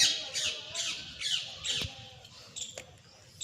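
Repeated harsh parrot squawks, about five in a row at a steady pace, fairly close, followed by a couple of sharper chirps.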